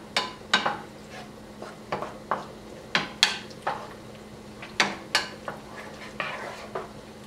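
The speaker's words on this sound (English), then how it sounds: "We're gonna add the tomatoes. And just continue stirring." Tomatoes are stirred in a pan for tomato basil pasta, with a spoon scraping and knocking against the cookware in irregular, close strokes. A quiet sizzle hums underneath.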